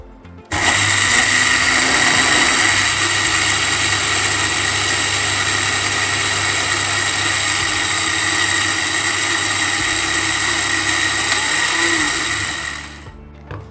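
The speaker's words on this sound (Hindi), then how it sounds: "अब हमारे पास जो चावल थे हम उनको भी ग्राइंड कर लेंगे" An electric kitchen grinder pulverises rice for a kheer mix, starting abruptly and holding a loud, steady high-pitched motor whir for about twelve seconds before spinning down.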